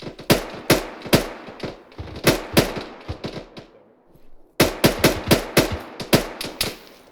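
Sharp gunshots in ArmA 3 co-op play, a rhythmic series of loud cracks with echoing tails, a short pause, then another volley of regular shots.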